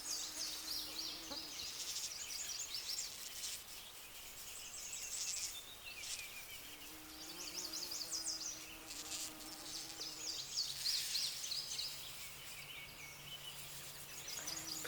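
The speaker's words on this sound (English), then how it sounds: "If you listen quietly, you can actually just hear all the buzzing." Bumblebees buzz steadily among comfrey flowers outdoors, a continuous close droning hum with several overlapping insects rising and fading in loudness throughout, with no talking.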